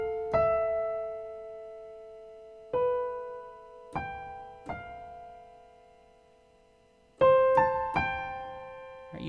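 Piano playing a sixth-interval hand shape that climbs up the scale, a handful of struck chords with long decaying sustain spaced irregularly, soft and unaccompanied.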